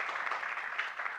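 Audience clapping at a devotional youth council gathering, a dense steady wash of many hands throughout with no voice over it.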